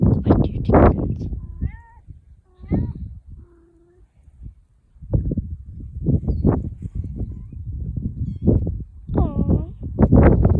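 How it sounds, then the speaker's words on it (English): Kittens and their mother cat on a ranch, with several high, thin meows rising at scattered moments among close, soft-spoken talk. "Go back to your kittens."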